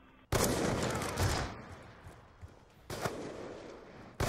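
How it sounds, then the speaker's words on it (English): Video game gunfire from a 3v3 match, with loud broadband bursts of shooting at the start, a sustained volley, then quieter rattle and two more sharp blasts near the end, with no talk over it. "Camden, shoot the C4."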